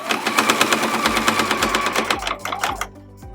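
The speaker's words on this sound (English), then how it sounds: "so that we can stitch smoothly along this last stretch" A sewing machine stitches the last stretch of a zippered scrap-fabric pencil pouch in a fast, even run of loud mechanical thumps that slows into a few separate strokes before stopping.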